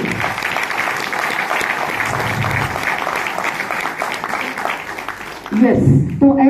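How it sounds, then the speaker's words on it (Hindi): Audience at a Vestige business leadership event gives loud sustained applause for its businesswomen, a dense continuous roar of clapping that fades near the end as a voice begins speaking. "एक जोरदार ताली उनके लिए दीजिए"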